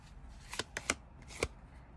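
Tarot cards shuffled by hand in a quiet room: a few soft, sharp card snaps and flicks spread across two seconds, close and faint, with no talking.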